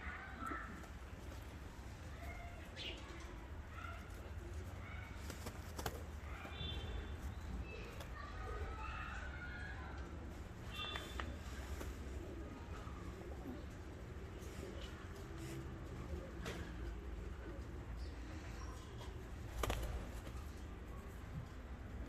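Fancy costume pigeons cooing in a loft, soft repeated coos and occasional wing flutters over a steady low background hum, faint and close, without clear talk.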